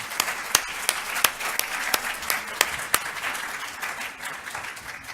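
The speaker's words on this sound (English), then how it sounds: "So can we please have a round of applause?" Audience applause for a panel of experts at a Boston event, steady mixed clapping with a few sharp nearby claps standing out, continuing throughout.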